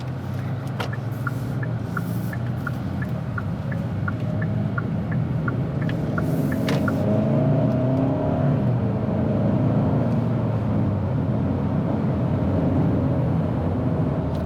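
A 2022 Hyundai Santa Cruz SEL Premium AWD with a 4-cylinder engine accelerating, heard as a steady low engine drone and road rumble from inside the cabin, with a few faint chimes early on.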